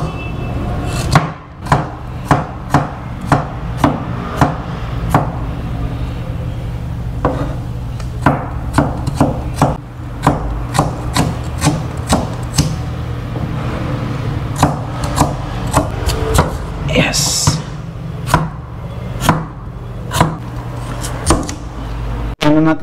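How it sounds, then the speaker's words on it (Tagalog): Ginger, garlic and onion chopped with a knife on a board for sautéing, in loud, close, evenly spaced knocks repeating throughout over a low steady hum. "umpisa na po tayo maghiwa mga kaps ng mga rekado natin. Si Luya, si Bawang, si Sibuyas."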